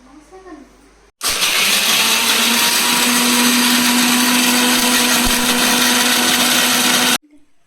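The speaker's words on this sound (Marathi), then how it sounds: "आपण तोपर्यंत या साईडला मिक्सर लावून घेऊया" A mixer grinder whirs loudly and steadily for about six seconds, starting and stopping abruptly, with a brief voice before and after.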